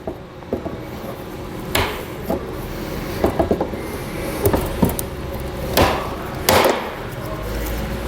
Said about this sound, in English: I'm just going to work my way around and trim these openings out.